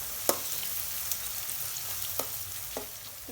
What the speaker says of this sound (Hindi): अब मीडियम आंच पर में एकरा भूज लेबे प्याज के।